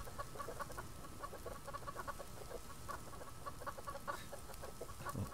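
Two chickens cluck in a survival game, a quick stream of short, repeated clucks close by at low volume, continuing steadily with no speech.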